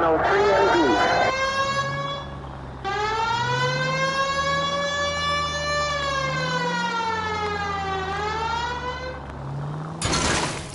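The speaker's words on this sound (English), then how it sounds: "Use the goddamn siren." A wailing police siren in a video game sweeps up and down in long, loud cycles, with a burst of other noise at the start and a sudden sharp blast near the end.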